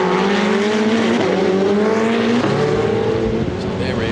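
Ferrari Challenge race cars scream past at Monza during a Trofeo Pirelli race, the loud engine notes climbing in pitch as they rev through the gears, with a race commentator talking over them.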